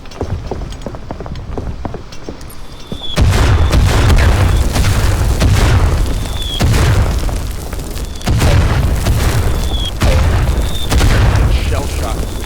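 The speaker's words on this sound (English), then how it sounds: "Heavy artillery barrage. Stay under cover until it eases up a little bit." Heavy artillery shells burst in a First World War Verdun battle video game, a sustained barrage of loud booming explosions rolling in waves and overlapping, with low rumbling blasts repeating every few seconds.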